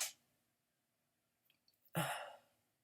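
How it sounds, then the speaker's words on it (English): A single sharp sneeze from a woman indoors, preceded by a few faint breathy catches, bursting loudly and then trailing off into quiet. "I'm about to sneeze."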